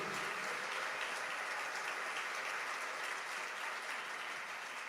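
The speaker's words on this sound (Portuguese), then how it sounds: "Dá mais uma linda, forte salva de palmas ao Senhor" A church congregation gives a strong, steady round of applause during a worship service, dense clapping that fills the room evenly and continuously without a break.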